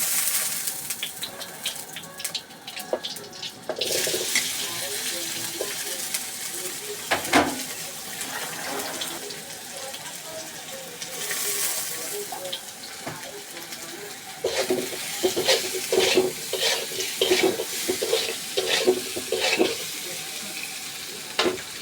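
Potatoes frying in oil in a pan with salt and turmeric, a steady close sizzle broken by frequent clanks and scrapes of stirring, with faint running water at one point.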